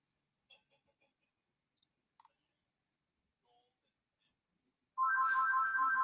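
A phone ringtone starts suddenly after a few soft scattered clicks, a loud steady warbling electronic ring that continues to the end.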